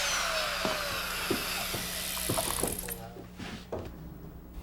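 Drywall router bit cuts through a drywall sheet around the outside perimeter of an electrical box: a loud, steady high-pitched whine with grinding for about three seconds, then it stops and leaves scattered clicks and light knocks.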